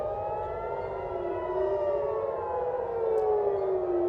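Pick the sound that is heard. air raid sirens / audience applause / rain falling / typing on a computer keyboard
air raid sirens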